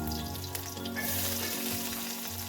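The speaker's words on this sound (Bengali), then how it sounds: "তারপর ডালটা সাঁতলে নেব।" Dal sizzling and frying in a hot pan, a steady close crackle and hiss with light stirring, no voices.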